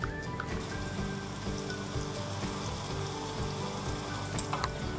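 Blacktail fish nuggets fry in oil in a pan, giving a steady, close crackling sizzle that runs without a break for the whole stretch.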